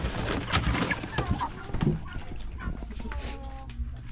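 Chickens cluck and squawk close by, muffled inside a sack, amid rustling and handling noise while a person talks over them.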